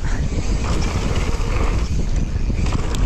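Loud, constant wind roaring across the microphone on a mountain bike trail in Cape Town, a steady broadband rush with no pauses.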